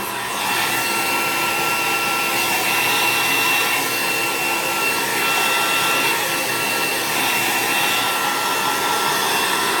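A hair dryer blows in a steady, loud, unbroken roar while drying many thick layers of foundation makeup, up close with no speech.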